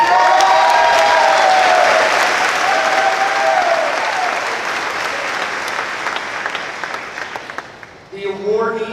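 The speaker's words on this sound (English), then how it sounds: "please stand when I call your name and give them a round of applause" Loud applause from a large commencement audience greeting a scholarship recipient, steady clapping that fades gradually before a brief burst of talk at the end.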